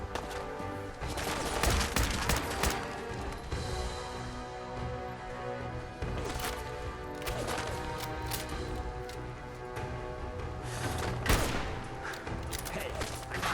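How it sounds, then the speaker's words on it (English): Gunfire in Fallout 4, repeated sharp shots and rapid volleys cracking out at intervals amid continuous battle noise, loud and close throughout. "Where are they still shooting at us from?"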